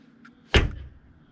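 Cab door of an Iveco S-Way truck closing, a single solid thud with a short rattly decay, close and clear against a quiet background after a faint click.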